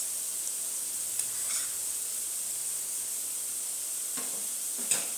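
Indomie instant noodles sizzle steadily in a pan after beef cube and mixed spices go in, a constant soft hiss with a few brief stirring scrapes near the end.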